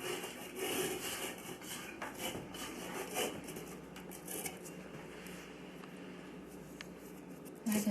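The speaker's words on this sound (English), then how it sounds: "Then I take this little scraper" A small scraper works shortbread dough on a floured board, giving a soft, continuous rubbing and scraping close by. It is quiet and steady, with no talk.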